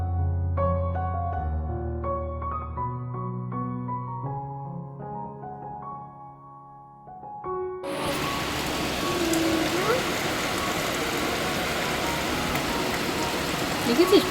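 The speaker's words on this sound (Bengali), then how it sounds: "সেই আবার বৃষ্টি শুরু হয়েছে" Rain starts in the second half as a steady, dense hiss and patter that follows a stretch of melodic music. It keeps a constant, moderately loud wash to the end.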